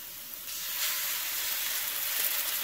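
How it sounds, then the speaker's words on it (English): Eggs scramble in a hot pan beside vegetables, giving a steady, fairly soft sizzling hiss that swells slightly and holds throughout. "Scramble the eggs in the middle of the pan."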